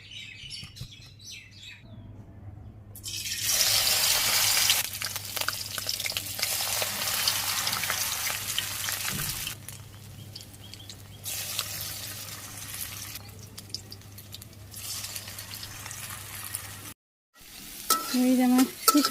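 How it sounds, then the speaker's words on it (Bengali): Jute leaves dipped in flour batter and slipped into hot oil fry in loud sizzling bursts that swell and fade, with birds chirping in the background of an outdoor village kitchen. "এই যে গুড়ির মধ্যে চুবিয়ে মাখিয়ে তারপরে এই যে এইভাবে তেলে ছেড়ে দেবো"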